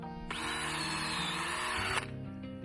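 A power drill bores a tap hole into a maple tree, a loud, steady high-pitched whir lasting under two seconds that stops abruptly, followed by faint rustling.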